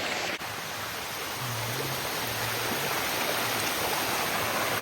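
A waterfall and stream in a Thai forest give a steady, dense rushing roar, loud and close, with no pauses throughout.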